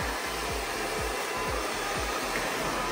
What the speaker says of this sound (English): It's weightless. There's nothing to the blow dryer.